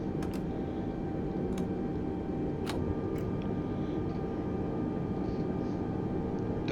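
Steady engine and airflow roar from an A320 airliner rolling on the runway after landing in a flight simulator, with a few faint clicks over the constant drone.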